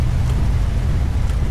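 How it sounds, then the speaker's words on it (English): Steady rain hisses continuously, heard from inside a vehicle with a low road rumble underneath. "Oh, it's raining again."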